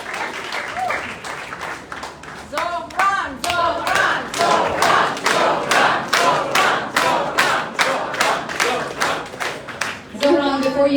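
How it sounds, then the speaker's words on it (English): A rally crowd claps in a fast, steady unison beat while chanting a name, loud and close, with shouted voices rising over the rhythmic clapping and a final cheer near the end. "if we can have a round of applause for the Muslim women who brought us to this point"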